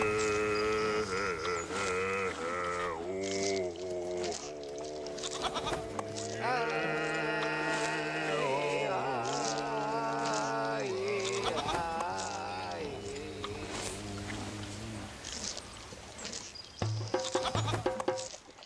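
Goat-like creatures in the video game Knock on the Coffin Lid bleat in long wavering cries, several overlapping calls close and loud over a game soundtrack, with a sharper burst near the end.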